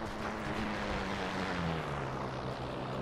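Propeller aircraft drone overhead in the World War II shooter game Heroes and Generals, a steady loud engine roar with a slowly falling pitch, sustained without any talking.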